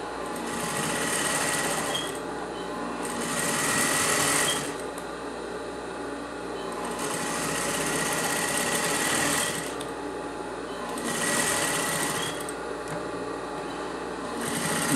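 A sewing machine runs close and steady, stitching the last appliqué strip onto fabric in long whirring bursts that swell and ease in rhythm, with no talking.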